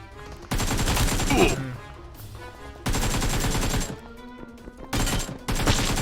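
Gunfire in the mobile battle royale game PUBG Mobile, with several loud bursts of rapid automatic shots separated by short gaps, close and dense.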